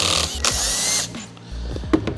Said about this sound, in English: We're also gonna take the fender delete off by removing these four screws in the corners.